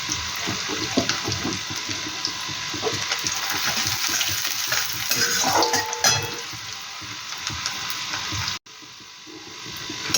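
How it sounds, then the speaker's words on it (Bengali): Onions frying in a pan during curry preparation, a steady, hissing sizzle at moderate volume running throughout, with a brief dropout near the end. "লাল লাল করে পেঁয়াজটা ভেজে নিলে গন্ধটা দারুণ লাগে"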